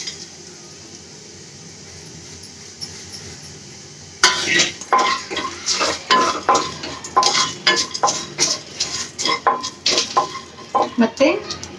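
Whole spices (fennel, cloves, pepper, poppy seeds, cinnamon, bay leaf and star anise) fry in a hot pan. A faint quiet sizzle gives way to repeated loud scraping and clinking as a utensil stirs them against the metal.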